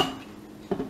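A lid lifts off a Cosori cooker after a roast has finished cooking, giving a single clattering knock near the end of a quiet, brief moment.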